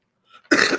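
A single harsh cough bursts out close by after a moment of near silence, preceded by a faint breathy rustle.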